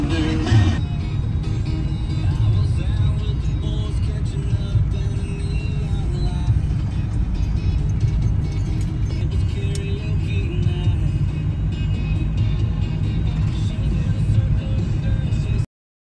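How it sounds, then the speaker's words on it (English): Steady road-vehicle engine rumble from traffic on a winter mountain road, a continuous, fairly loud drone lasting the whole stretch with no talking. "Wasn't expecting any traffic in the mountains"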